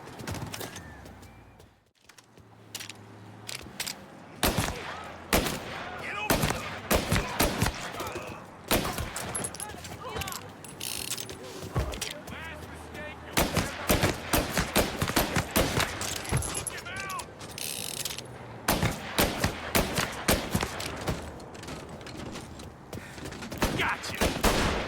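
Rapid gunfire bursts and single shots from the Mafia: LHPD Stories game mod, loud and repeated throughout with brief pauses, mixed with other game effects.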